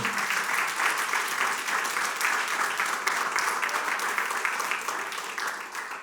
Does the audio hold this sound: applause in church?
yes